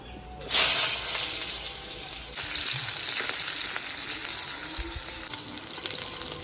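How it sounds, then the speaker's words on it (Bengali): Sweet potato pieces fry in hot oil in a kadai for a Bengali shukto. A continuous, close hiss of frying holds at a fairly even loudness, with a brief louder burst near the start. "মিষ্টি আলু ভাজা হয়ে গেছে এবার তুলে নিচ্ছি"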